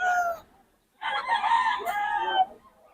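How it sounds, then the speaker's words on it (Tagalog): Two close, loud bursts from a hen, a short call followed by a longer, drawn-out clucking cry after a brief pause. "may inahin si Boss Joey"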